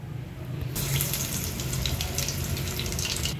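Vada batter made from urad dal with green chillies sizzles steadily as it drops into hot oil, the hiss starting abruptly and continuing loud and dense with no talk.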